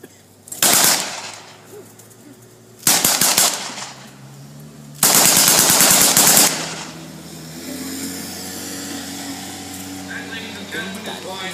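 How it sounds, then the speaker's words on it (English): Browning automatic rifle fully automatic with two rate settings, fired at a WWII reenactment battle outdoors: three loud, close bursts of rapid rattling shots, each lasting one to two seconds, separated by pauses, with faint ambient noise afterward. "the weapon is fully automatic with two speeds"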